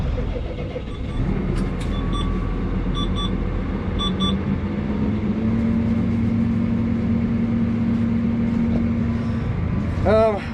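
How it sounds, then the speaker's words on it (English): A farm loader tractor engine runs with a steady low mechanical drone on a frosty morning. A few short electronic beeps sound early on, and a brief rising whine comes near the end. "I'm just getting the loader tractor started up"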